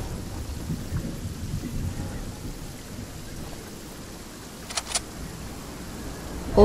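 Rumbling thunder and steady rain of the storm in Fortnite roll on continuously at moderate loudness, with a brief sharp crackle near the end and no talk.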